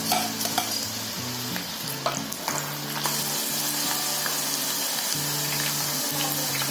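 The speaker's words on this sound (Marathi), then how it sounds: "ते तापला ना त्याच्यावर आपण फुल गॅसवर एकदम तळून घ्यायची पटापट." Spicy mini shankarpali dough pieces deep-frying in hot oil over a full flame, a steady close sizzle with light bubbling and occasional stirring clatter, no talking.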